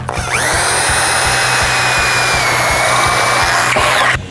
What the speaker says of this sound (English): Let's just get the biggest drill bit we got.